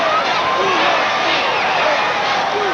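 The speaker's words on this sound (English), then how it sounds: "And we hear the crowd coming to their feet" A wrestling arena crowd rises to its feet, a steady roar of cheering voices filling the space continuously at high volume with no pauses.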